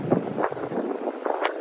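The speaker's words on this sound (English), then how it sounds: "It's a lovely day to be out, but it's very windy." Strong wind buffets the microphone outdoors on a nature walk near Aviemore, with gusty rumbling bursts rising and falling over about two seconds and no talking.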